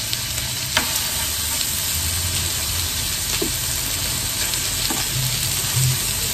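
Beef rolls wrapped around enoki mushrooms sizzle steadily on a grill, a continuous close crackle with a few brief louder pops and no talking.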